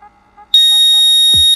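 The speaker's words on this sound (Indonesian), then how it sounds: "Ini alarm." A loud, high-pitched electronic beep from a weather meter's alarm sounds once for about a second, steady and piercing, after a faint soft tone, ending with a low thump.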